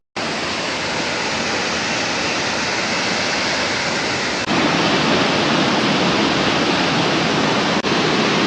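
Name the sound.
Kodige waterfall in Kudremukh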